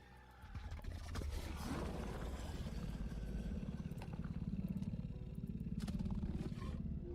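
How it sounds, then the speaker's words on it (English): A deep, rumbling kaiju dinosaur growl from the video game Dinosaur Simulator rolls on for several seconds, loud and continuous with a gritty low roar that swells near the end, with no talking over it. "Here's the growl."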